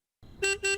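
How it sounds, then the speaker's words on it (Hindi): Two short car horn honks from outside, a double beep in quick succession, moderately loud and alone. "देखो कोई बाहर हॉर्न बजा रहा है।"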